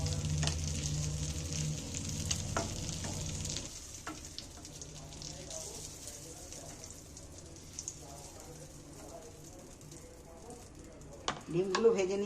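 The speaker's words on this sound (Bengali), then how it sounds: "গ্যাসের ফ্লেম কমিয়ে দিয়ে ভাজলে ডিমটা কিন্তু খুব সুন্দর ভাজা হয়।" Eggs fry in oil in a pan over a lowered gas flame, giving a steady sizzle and crackle. A stir or scrape stands out early on, and a voice briefly speaks near the end.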